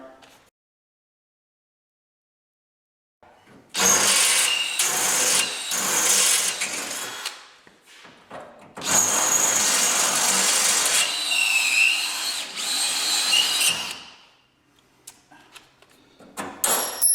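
A power drill bores into metal in a home workshop, starting after a few seconds of quiet as two long, loud grinding runs separated by a brief pause, then stopping near the end.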